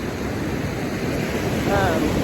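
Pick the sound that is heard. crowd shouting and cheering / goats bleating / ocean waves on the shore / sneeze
ocean waves on the shore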